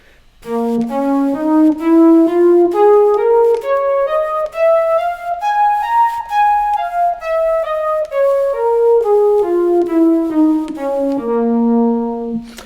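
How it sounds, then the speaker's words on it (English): An electronic wind instrument plays a smooth, legato blues scale in C that climbs steadily and then descends, with a reedy, synth-like tone and no talking. "And then for the blues scale, it would just sound like this."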